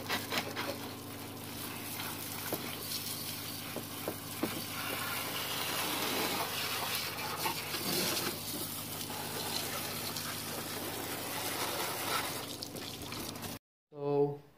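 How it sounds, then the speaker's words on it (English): Water sprays steadily over a car engine during washing, a continuous close hiss of spray and splashing that runs unbroken and then cuts off abruptly near the end. "now I'm going to wash the engine of the car"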